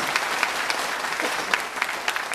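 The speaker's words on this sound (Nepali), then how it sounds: "बाबुकाजी भण्डारी, कृपया होला जोरदार ताली स्वागत गरिदिनु होला।" Steady audience applause fills a seminar hall, dense clapping from many hands at close range with a few sharper claps standing out, continuous and unbroken, with no voices over it.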